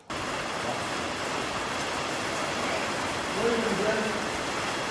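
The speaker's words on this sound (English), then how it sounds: "It's hailing!" Steady broadband hail clatters down outdoors on a farm in one continuous loud wash, with voices talking briefly underneath near the end.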